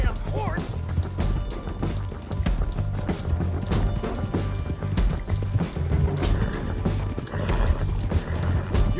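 Rhythmic clip-clop of galloping horse hooves in Red Dead Redemption 2, with mechanical game-like clatter over a busy, continuous backdrop.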